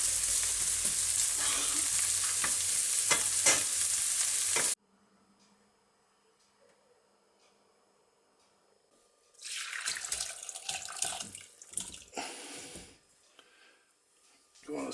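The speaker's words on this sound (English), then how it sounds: "Stir the onion until they become golden" Onions frying and stirred in a pan for homemade liver sausage, a loud hissing sizzle for several seconds that cuts off, then near silence before a burst of scraping, clattering stirring and renewed sizzle.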